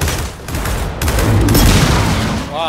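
Gunfire and a grenade blast in the video game Gears of War 4, rapid bursts of shots followed by a booming rumble that swells and fades, loud and close, with no talk.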